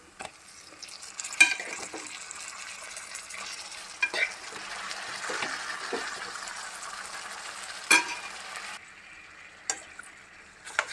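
Chicken pieces drop into a pan of fried onions for a spicy green chicken curry, sizzling steadily and close by, with sharp utensil clinks and stirring knocks breaking through the hiss every few seconds.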